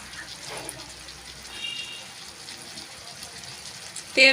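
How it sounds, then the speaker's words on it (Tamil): Water is added to bottle gourd masala cooking in a pan, a soft, steady running sound that swells into a louder gush right at the end, close by and moderately quiet. "தேவையான அளவு தண்ணி சேர்த்துக்கலாம்."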